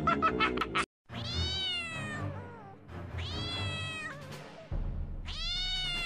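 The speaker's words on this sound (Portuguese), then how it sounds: "Isso é só um gatinho." A cat meowing in a string of long, loud, close cries with rising and falling pitch, separated by brief pauses and a short clipped sound at the start, no talk over them.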